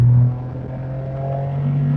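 A 1993 Honda Beat Type C's small engine holds a steady, buzzy rev close by, dips briefly, then swells again toward the end, with no talking over it.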